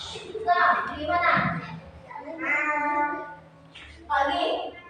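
Children's voices imitate a cat's meow in a classroom, producing several drawn-out, harmonic mew-like calls in sequence, near and clear, with short pauses between them.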